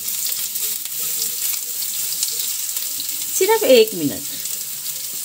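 Ground garlic and cumin fry in a pan at home for dal palak, a steady hiss of sizzling under a brief word, with a louder burst of stirring or scraping near the end.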